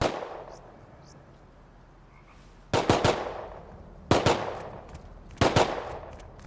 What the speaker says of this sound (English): Who's that scientist shooting at, I wonder?